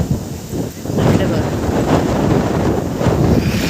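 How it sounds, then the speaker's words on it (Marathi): Steady wind buffets the microphone outdoors in a village farm setting, a broad rushing roar that swells slightly after the first second and holds constant. "वारा किती आहे बघा मस्त वारा"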